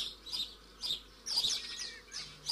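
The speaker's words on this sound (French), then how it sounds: "on peut voir de grandes troupes de moineaux domestiques, composées en forte majorité de jeunes qui rôdent dans les champs, piaillent dans les haies" House sparrows chirp in hedges near fields, a faint scatter of short bright calls in uneven bursts against a quiet background.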